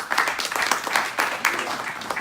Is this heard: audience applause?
yes